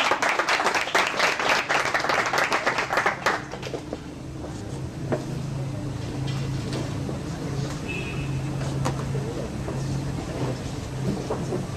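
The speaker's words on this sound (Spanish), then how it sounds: "Pero un aplauso al maestro." An audience applauds a karate master at a federation ceremony in Belize, a loud dense burst of clapping that fades after about three seconds into room murmur and scattered claps.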